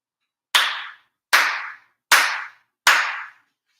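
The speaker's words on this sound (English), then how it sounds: "4 sincere claps" Four sharp, deliberate hand claps ring out at a Japanese end-of-year Shinto ceremony, evenly spaced, each crisp and resonant with a short decaying tail, in an otherwise silent room.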